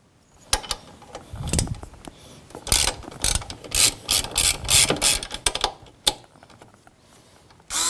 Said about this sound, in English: It's now time to remove the bolt that's right here.